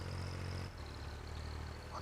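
A tractor engine in the farming video game Farming Simulator 19 runs with a low, steady hum that dips briefly partway through, heard faintly with no talk.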